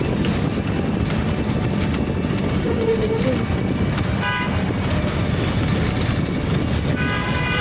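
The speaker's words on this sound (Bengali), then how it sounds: "তার নিচ দিয়ে ট্রেন যাচ্ছে" Steady rumble of a train passing below a road, beneath busy traffic noise, with a brief horn-like tone partway through; loud and continuous throughout.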